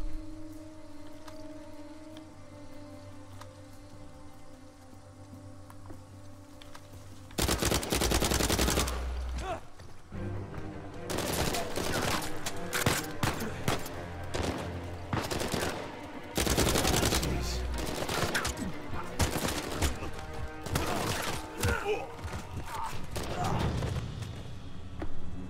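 Gunfire in the Uncharted 4 video game erupts in loud, rapid bursts after a quieter opening stretch, with dense automatic volleys and scattered single shots continuing over game ambience.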